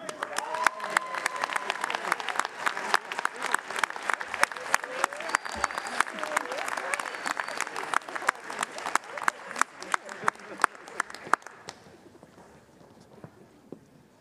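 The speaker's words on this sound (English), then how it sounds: "Loud round of applause" A hall audience at a Clemson University doctoral hooding ceremony in fall 2021 gives a sustained, loud round of applause, dense crisp clapping that thins out and fades near the end.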